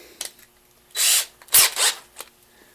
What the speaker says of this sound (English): Once you have it drilled out to a 9/64